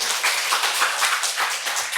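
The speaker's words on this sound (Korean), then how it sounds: "말 되게 하실 하나님께 박수 올려드려요" A church congregation at a Sunday service bursts into applause, a thick wash of many hands clapping with a loose rhythmic pulse, full and close throughout.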